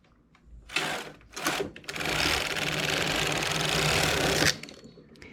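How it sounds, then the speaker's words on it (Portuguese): A knitting machine working two rows of a sleeve with a colored braid pattern, with brief carriage bursts followed by a loud, steady mechanical whirring run of a few seconds that then stops, close and alone. "Teço 2 carreiras."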